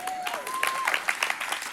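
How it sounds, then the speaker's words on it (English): Audience applause at a church service, a steady wash of clapping with a sung or sustained voice tone running over the first part. "You can clap about that, encourage yourself."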